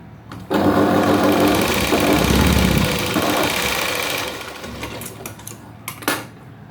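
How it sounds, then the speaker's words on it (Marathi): A sewing machine runs a steady, loud, fast stitching burst while sewing a half-inch seam on a V-neck blouse, then slows and trails off into a few lighter mechanical clicks near the end. "इकडून अर्ध्या इंच शिलाई मारायची"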